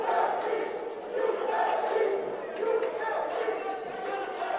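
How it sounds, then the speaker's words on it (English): A UAE crowd chants at an indoor cricket match against Sri Lanka, rhythmic massed voices rising and falling in waves, loud and echoing within the hall. "The UAE crowd fully supporting their people here, chanting UAE"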